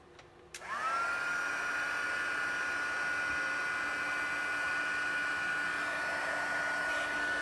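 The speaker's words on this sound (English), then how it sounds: "And then my heat tool. And let's let it heat up just a little bit." An embossing heat tool switches on and blows hot air in a steady, loud whooshing hum with a whining tone, running alone after a brief click at the start.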